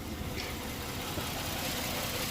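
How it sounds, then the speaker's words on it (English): A Ford Edge engine idles steadily with a misfire, giving a continuous low rumble with uneven pulsing, close by and alone, with no voices. "so the car is running and we do have the check engine light on"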